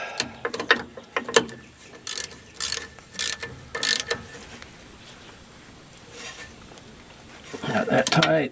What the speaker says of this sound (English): And then we'll take the ratchet, flip that around, tighten our bolts.